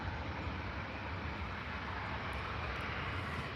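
An airplane at Manchester Airport sends out a dense, steady jet-engine roar, broadband and constant, heard at a moderate distance with no talking.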